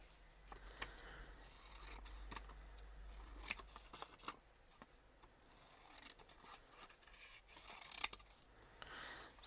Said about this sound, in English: I need a pair of scissors to make it square.